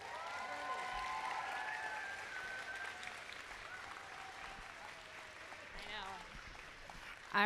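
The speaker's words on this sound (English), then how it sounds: "how about a nice round of applause for our teachers" An audience applauds the teachers at a kindergarten celebration, a steady wash of clapping that fades slightly toward the end while voices talk and call out over it.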